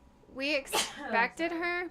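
A single sharp sneeze bursts out between short bits of conversation, close and loud, with a voice talking on either side.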